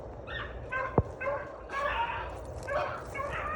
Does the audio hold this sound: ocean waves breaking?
no